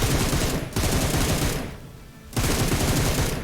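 Bursts of rapid automatic gunfire in the mobile battle royale game PUBG Mobile, loud and dense, in three stretches separated by brief pauses.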